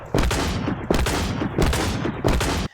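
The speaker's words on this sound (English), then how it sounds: "So, this is Scorched Guns. Scorched Guns adds even more guns, and they all look awesome." Guns from the Scorched Guns mod in Minecraft fire in four loud, sharp bursts at roughly even intervals, each one a quick rattling volley that cuts off into a brief gap before the next.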